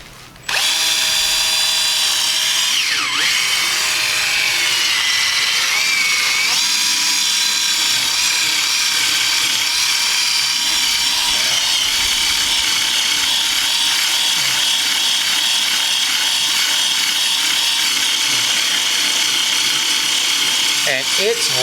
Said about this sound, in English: We're going to rub it in on the areas.